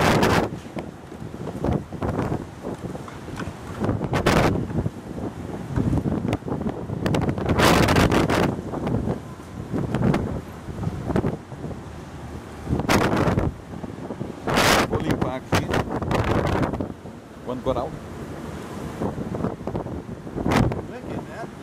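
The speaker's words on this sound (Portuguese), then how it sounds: "O vento é muito forte." Strong storm wind in Wichita, Kansas, buffeting the microphone in loud, irregular gusts and roaring blasts, with people talking and exclaiming through it.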